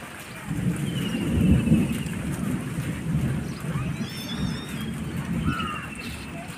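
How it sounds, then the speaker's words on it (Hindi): Rain beginning to fall outdoors, a steady hiss of drops with low rumbling thunder throughout and faint bird chirps in the background. "बारिश होने लगी है"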